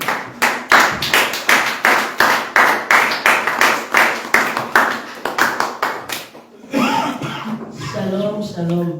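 Church congregation clapping in steady rhythmic unison during worship, loud and close, about three claps per second for several seconds, then fading into voices.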